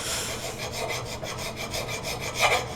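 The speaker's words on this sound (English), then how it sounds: "Now, this is draw filing." An axe blade being draw filed by hand, a steady rasping scrape with repeated strokes, close and fairly quiet, with a slightly louder stroke near the end.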